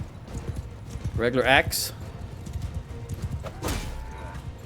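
Horses in Mount & Blade II Bannerlord clop along in quick galloping hoofbeats amid battle noise, moderately near, with someone talking over them.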